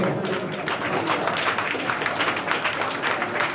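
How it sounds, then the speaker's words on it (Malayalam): An audience applauds at a commemorative gathering, dense steady clapping from many hands that stays loud throughout. "നല്ലൊരു കയ്യടി സമ്മാനിക്കുക"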